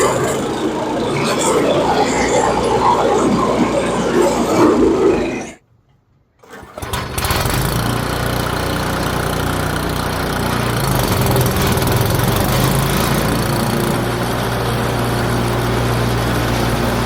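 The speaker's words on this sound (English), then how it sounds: "here's a close-up of what it looks like once the drum starts to engage to the motor" A wood chipper motor runs loud and rough, drops out to near silence for about a second, then its drum engages and the motor settles into a steady, throaty drone close to the microphone.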